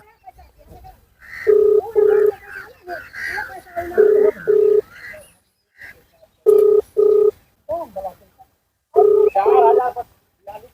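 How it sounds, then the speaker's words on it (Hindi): A phone call waits for pickup, with pairs of short ringback tone bursts repeating four times at even intervals, a voice talking between and under the first rings. "आइए कोशिश करके देखते हैं जय साहब कॉल उठाते हैं या नहीं।"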